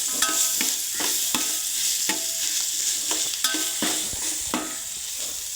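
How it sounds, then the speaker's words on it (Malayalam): Chicken curry being stirred in a frying pan, a constant sizzle broken by regular scraping strokes of the spoon against the pan, close and clear with no voices. "ഒന്നുകൂടെ കൂട്ടി വെച്ചിട്ട് ഒന്നുകൂടെ ഇളക്കാം."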